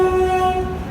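Horn of the LTT Kurla Express 11013 sounding as it arrives at KSR Bengaluru railway station, a loud, sustained tonal blast held for the whole moment with low rumble beneath, no talking.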